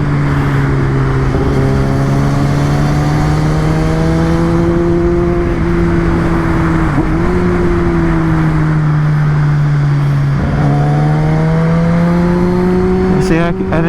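Kawasaki ZX10 motorcycle engine droning steadily while riding on a bumpy road, a loud sustained hum with rising and falling pitch as the throttle shifts, continuous throughout with a brief dip and recovery midway.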